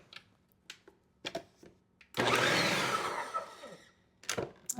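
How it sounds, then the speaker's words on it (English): Kitchen blender whirring through lime juice salad dressing with salt and pepper for a southwestern salad, a loud two-second burst that starts abruptly and tapers, framed by scattered clicks and knocks before and after. "So now all I'm going to do is blend this up."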